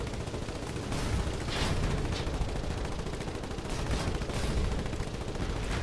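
Heavy guns on a warship fire in the Foxhole video game, a dense, continuous barrage of loud overlapping shots and blasts rolling on without pause.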